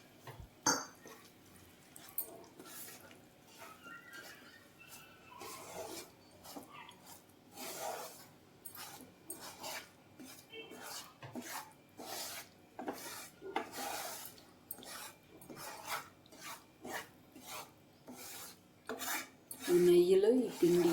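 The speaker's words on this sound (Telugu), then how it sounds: "ఈ నెయ్యిలో ఈ పిండి ఉడుకుతుందండి." Ragi flour cooking in ghee in a pan, stirred with a spoon: repeated rhythmic scraping and rasping strokes against the pan bottom, close and fairly quiet, with a few louder knocks at the end and no talking.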